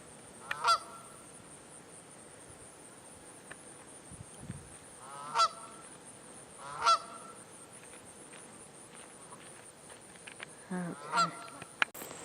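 Several geese honk at intervals from a distance, sharp separate calls with a brief cluster near the end, set against open outdoor quiet.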